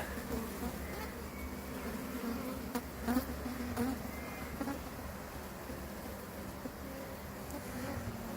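A honey bee swarm hums in a dense, steady drone close by, with individual buzzes rising and falling over the continuous swarm noise.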